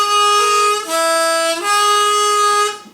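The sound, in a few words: cheap harmonica played with breath leaking past reeds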